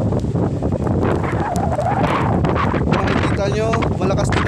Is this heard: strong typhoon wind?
yes